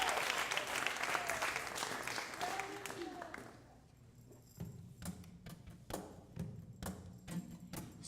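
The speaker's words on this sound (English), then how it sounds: "Let's give them a round of applause." Loud audience applause at a live variety show as a singer is introduced, a dense wash of clapping that dies away after a few seconds as music begins.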